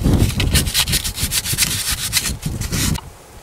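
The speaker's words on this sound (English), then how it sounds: "with a piece of emery, make sure there's no rust left round there" Emery cloth scrubbed back and forth over a rusty brake caliper carrier from a Jaguar X-Type, loud rhythmic rasping strokes close up, stopping abruptly near the end.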